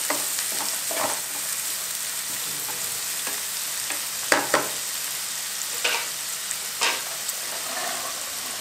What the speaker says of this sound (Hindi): कांदा डालेंगे, ऑनियन को हमें ज़्यादा रोस्ट नहीं करना है।